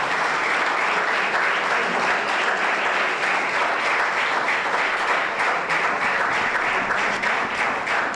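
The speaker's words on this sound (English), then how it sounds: "So have a big round of applause for this endeavor." Steady, loud applause from an alumni reunion gathering of a Ramakrishna Mission Vidyapith batch, with many hands clapping continuously throughout.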